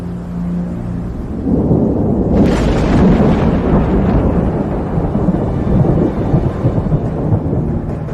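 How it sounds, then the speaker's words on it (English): Mountain thunderstorm over the Arlberg: a loud, close rumble of thunder swells after a couple of seconds and rolls on continuously, with a crackling burst near its start and a steady low roar throughout. "If the wind turns to a northerly or northeasterly, the Arlberg is in for a storm."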